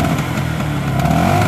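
Close revving of a Vespa Super 150 scooter engine as the throttle is opened, a steady raspy motor note rising briefly.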